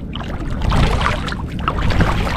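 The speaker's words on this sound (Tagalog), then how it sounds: "medyo lumalakas yung hangin." Strong, blustery wind rushes loudly and continuously, with gusty swells and a watery, splashing texture underneath.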